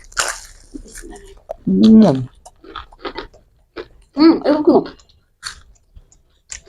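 Close, crunchy chewing and biting of fried snacks, potato chop, begun and peyaju, during an eating challenge, with moist squishy mouth sounds, interrupted by bursts of talking.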